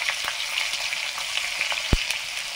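Chopped tomato fries in mustard oil with black cumin for a small-fish curry, a steady close sizzle with faint crackles and one sharp tap near the end.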